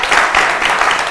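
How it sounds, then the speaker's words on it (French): Brief burst of studio audience applause on a youth television program, loud and close, a dense rapid patter of many hands. "D'accord, on va l'applaudir."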